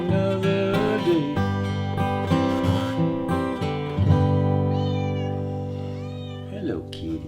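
A cat meows through sustained guitar music in a room, giving several drawn-out, wavering cries that rise and fall over the strummed chords.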